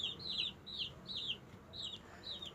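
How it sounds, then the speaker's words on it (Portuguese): A chicken clucking close by, six short rising calls in a steady rhythm over quiet background noise. "É galinha."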